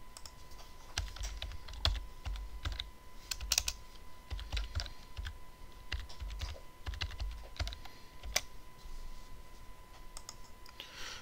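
Keystrokes on a computer keyboard as a username and password are typed in, irregular bursts of close, crisp clicks with short pauses, no talking.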